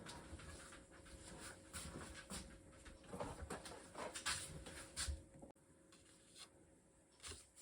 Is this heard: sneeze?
no